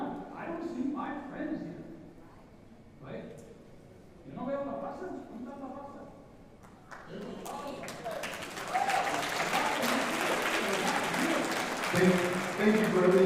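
A town hall audience in Humble breaks into loud, sustained applause after a man's speech, with clapping swelling and continuing to the end.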